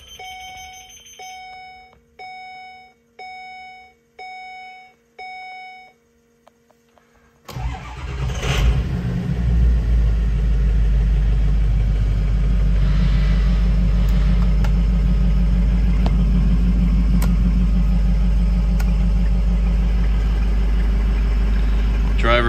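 A 2010 Ford Econoline E450 school bus with a Collins body and 6.0 Powerstroke V8 turbo diesel; several chiming warning beeps precede the engine cranking and catching into a loud, steady rumbling idle close by.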